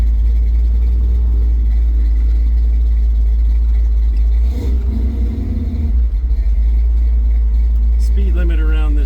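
A 1963½ Ford Galaxie with a newly fitted exhaust gives a loud, deep, steady engine rumble from close by while driving, with a short rise in revs midway and a voice speaking near the end.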